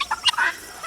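Jersey Giant chickens raised as meat birds call out in their coop, a short burst of loud, gobbling, turkey-like squawks lasting under a second.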